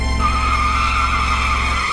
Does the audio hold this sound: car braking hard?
yes